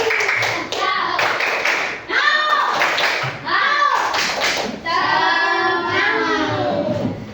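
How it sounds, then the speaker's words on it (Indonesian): Schoolchildren in a classroom perform a rhythmic spirit clap, bursts of patterned hand claps mixed with their loud chanting voices. "1, 2, 3, tepuk semangat."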